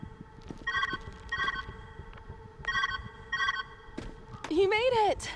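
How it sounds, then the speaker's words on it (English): A telephone rings in the puzzle video game Viewfinder, repeated paired electronic trills at a steady interval, followed by a rising and falling synthetic tone at the end. "Where's that ringing coming from?"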